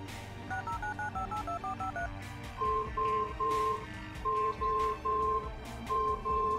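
Phone dialing tones in the video game Resonance: a quick run of short keypad beeps, then repeated longer ringback tones pulsing in regular pairs, clear and loud over a low background hum.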